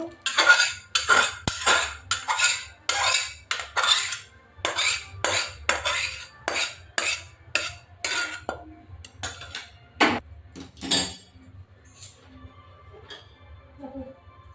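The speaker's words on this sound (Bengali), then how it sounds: "এবার ডালটা সার্ভ করে নেব, একটা বাটিতে ঢেলে নেব।" Dal ladled from a pot into a bowl, with a series of close metallic clinks and scrapes of spoon against vessel, fairly regular at first and then thinning out to sparse taps, with no talking.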